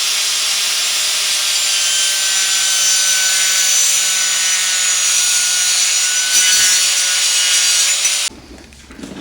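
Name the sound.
disc cutter trimming plastic weep hole vents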